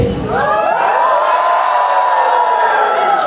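A school annual day audience of parents shouts and cheers together, a loud sustained crowd roar with whoops rising and holding for a few seconds.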